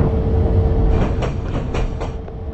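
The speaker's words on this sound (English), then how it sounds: "Oh, there's a train right there." Train passing at a station platform in a railway simulator game, a steady low rumble with rhythmic clicking wheel beats, loud and continuous with no talk.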